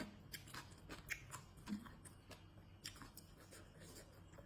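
Close, crisp crunching and biting of papaya salad made with vegetables, with repeated chewing bites in an irregular rhythm; quiet and intimate, no talking.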